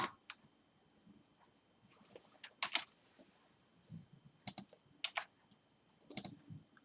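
Scattered keystrokes on a computer keyboard tap out in short irregular bursts, quiet and close, with brief pauses between clusters of clicks.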